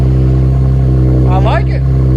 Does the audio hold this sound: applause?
no